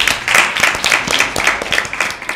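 A live Bible quiz audience applauds Team B for a correct answer. The clapping is steady and dense, with many hands mixing into a continuous patter for a couple of seconds.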